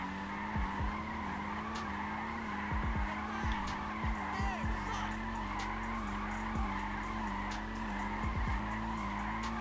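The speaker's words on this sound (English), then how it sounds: "you start doing some reverse donuts" Front-wheel-drive Maxwell Asbo car doing reverse donuts in GTA Online, tires squealing and skidding in repeated bursts over a steady engine drone, loud and close.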